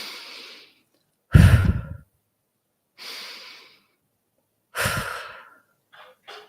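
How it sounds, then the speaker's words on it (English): Deep, forceful breathing during a spring meditation, with strong inhales and short, sharp exhales in a slow, regular rhythm separated by silent pauses, close and alone. "Keeping that strong inhale and short exhale."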